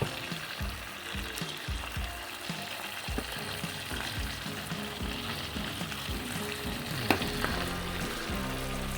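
Chicken pieces browning in a pan for chicken tikka masala: a constant, close crackling sizzle of hot oil with irregular pops and soft stirring scrapes, no talk.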